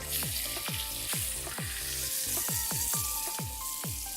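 A striped bass fillet frying in hot oil in a pan, a steady crackling sizzle punctuated by a regular series of sharp ticks and pops, close but fairly quiet, with no talking.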